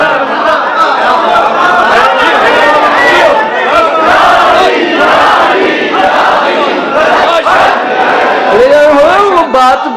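A crowd chanting slogans at a gathering in Karachi, many voices shouting together in loud, sustained waves, with rising cries near the end.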